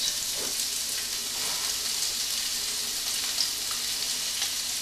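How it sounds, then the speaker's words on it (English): Chopped onion and carrot fry in a pan for a steak pie filling, giving a steady, dense sizzle that holds level throughout with no talking. "Now we're going to add our onion to the pan and our carrot."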